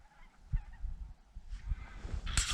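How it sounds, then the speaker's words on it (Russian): A huge flock of geese, about two hundred birds in eight V-formations, flies very high overhead; their honking reaches the ground faint and distant, scattered calls rising through a low outdoor rumble. "Гуси. Огромная стая гусей. Но летят очень и очень высоко."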